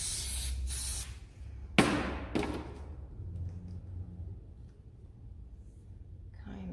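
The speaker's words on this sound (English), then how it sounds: "Now we want to get the hairspray and start making it a little bit tacky." Hairspray hisses from an aerosol can onto hair while a ballet bun is styled, several short sharp sprays up close, followed by quieter handling sounds.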